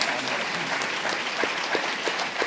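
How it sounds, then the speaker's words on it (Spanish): A church congregation applauds during a Sunday service, a dense, sustained round of clapping from many people that fills the space without a break. "el aplauso es para el Señor"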